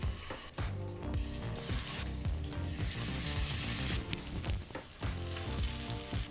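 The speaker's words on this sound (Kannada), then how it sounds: "ಈಗ ಮ್ಯಾರಿನೇಷನ್ ಆದಂಥ ಪನ್ನೀರನ್ನು ನಾವು ಫ್ರೈ ಮಾಡ್ಕೊಳ್ತಾ" Marinated paneer cubes fry in hot melted ghee on a flat tawa, a loud, steady, close sizzle crackling continuously with occasional spatula scrapes and clatter, no voices.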